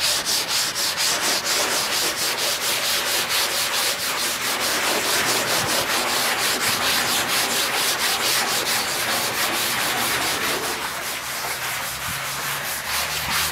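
Steady, loud rubbing of a degreaser-soaked sponge pad across an old abandoned truck's fenders, continuous fast back-and-forth strokes with a rough, gritty texture and no talking.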